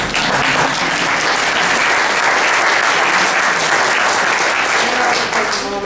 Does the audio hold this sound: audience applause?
yes